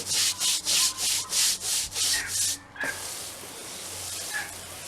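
Rhythmic scrubbing of green algae from wooden decking after a bleach wash, eight close, even strokes of bristles rasping over the boards, then a pause with faint light rustling.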